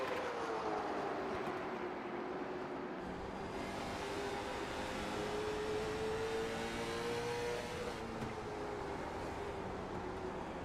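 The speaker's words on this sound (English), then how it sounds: "These cars are pretty darn mean sounding, and I love to hear them." Loud, continuous engine roar of racing cars at South Boston, with rising and falling pitch as they accelerate and pass, steady throughout.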